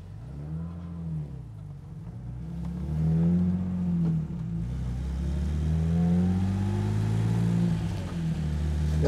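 A 1970s BMW 3.0 CSi (E9) coupe with its straight-six engine pulls along a road, the engine note rising and falling through several revving gear changes, steady and fairly close throughout.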